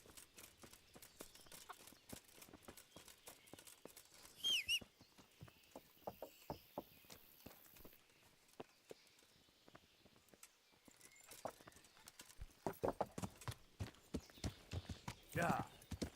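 Horse hooves clip-clop steadily on the ground in the medieval video game Kingdom Come: Deliverance, a rhythm of light, close strikes running throughout with speech heard alongside.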